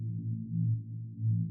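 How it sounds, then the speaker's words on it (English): A hard industrial techno synth patch runs through multiband distortion on its low end, giving a thick, gritty bass drone that swells and dips over a couple of seconds, heard alone. "Then we're going through a bit of multiband distortion."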